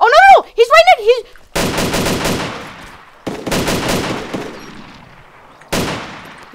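Gunfire in the ARMA II DayZero mod video game: after a short voice-like warbling sound, three separate bursts of rapid shots ring out, each fading with a long echoing tail.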